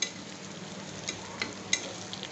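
Onions and tomatoes frying in a pan for tomato rice give a soft, steady sizzle with a few light spoon scrapes, heard close and with no voices.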